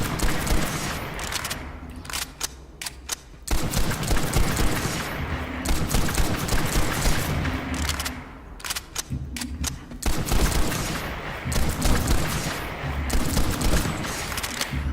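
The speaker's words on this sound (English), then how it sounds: "Only problem this gun has, in my opinion, is that it has a pretty menacing sound profile. It is loud. It is extremely loud." Rapid, loud gunfire from a TR Infiltrator weapon in a video game, dense continuous bursts of shots with brief pauses between strings, filling the whole stretch.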